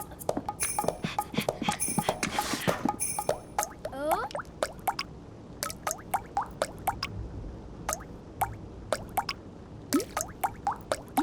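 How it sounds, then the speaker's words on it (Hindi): Water from a leaking roof drips into a bucket in a cartoon, a long series of crisp, plinking drops with irregular rhythm, some quick clusters and some spaced apart, fairly close and clear with little else around. "तुमने ये आवाज सुनी? बूंदों की क्या धुन है?"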